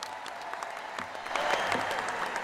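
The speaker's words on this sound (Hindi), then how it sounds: "एक बार इनके लिए भी जोरदार ताली हो जाए" Crowd applause at a political rally in Delhi: dense clapping from a large audience that swells louder midway and stays strong to the end.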